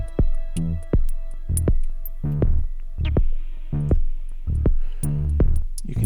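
A spacey synth clip processed by the Airwindows Vibrato plugin pitch-wobbles through a run of pulsing, throbbing notes, steady and fairly loud with no voices.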